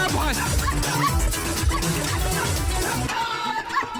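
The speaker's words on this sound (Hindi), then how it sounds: "इस कुत्ते से बचाओ।" A dog barks and whimpers amid a busy, dense mix of music and shouting voices in a Hindi action movie comedy scene, the yelps and whines partly buried under the soundtrack.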